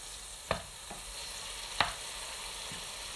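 Chicken fajita mix frying in a very hot pan, a soft steady sizzle with a few sharp crackles and spatters popping out over it.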